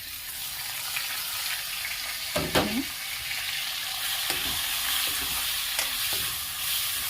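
Tomatoes hit a pan of frying ginger and garlic and are stirred in for a rajma curry, giving a steady close sizzle broken by a few scraping stirs and sputters.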